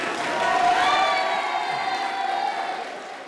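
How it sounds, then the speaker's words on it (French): An audience at a school eloquence contest semi-final applauds and cheers for students, a swell of clapping and whoops that rises, then slowly fades. "Pouvez-vous les applaudir encore une fois très fort?"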